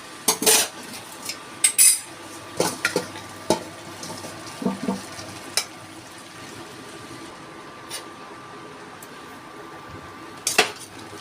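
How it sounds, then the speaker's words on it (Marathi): Grated carrots being stirred and sautéed in homemade ghee in a pan for carrot halwa, with scattered sharp clinks and scrapes of a metal spoon against the pot over a faint steady sizzle, no talking. "आता मी सगळं त्याच्यामध्ये घातलं आहे तुपामध्ये। आता मी छान परतून घेणार आहे।"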